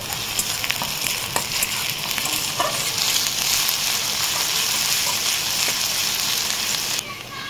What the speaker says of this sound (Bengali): পেঁয়াজগুলোকে একটু লাল লাল করে ভেজে নেবো